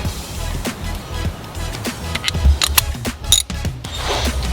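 A ratchet driving a 14mm socket works on brake bolts of a 2014 Kia Forte, giving a string of sharp mechanical clicks and clunks over steady background rumble, close and fairly loud.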